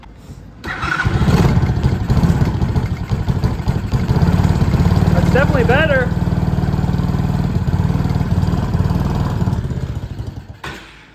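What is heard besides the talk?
quad engine starting and idling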